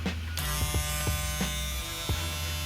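Gamma Ergo cordless hair clippers running close by with a steady electric buzz, the pitch wavering slightly with a few brief clicks and bumps.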